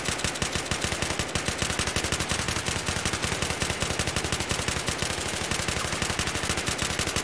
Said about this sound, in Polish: na jednego zabiłem, dobrze, strzela Szemil